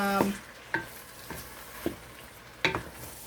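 Tomatoes going into a simmering pot of homemade tomato soup: a handful of soft clattering stirs and plops, each short and spaced roughly half a second apart, over a quiet steady background with no talking.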